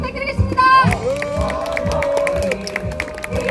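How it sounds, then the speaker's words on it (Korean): An outdoor crowd at a live street rally in Songdo claps and cheers as a speaker is introduced. Loud clapping and shouts rise together, with whistle-like tones near the start and voices mixed in. "큰 박수 부탁드리겠습니다"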